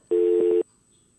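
A single short electronic tone, like a busy signal on a radio call-in phone line, sounds clear and loud for about half a second, then cuts off to near silence.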